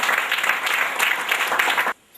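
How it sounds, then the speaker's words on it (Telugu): A church congregation claps loudly and steadily in praise during a Telugu worship service, a dense wash of applause that stops abruptly near the end. "గట్టిగా చప్పట్లు కొట్టి దేవుని నామమున."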